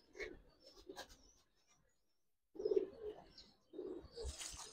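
Giribaz pigeons coo in two soft, low bursts after a brief quiet spell. Fainter chirps and rustles come before them, close by and with no talking.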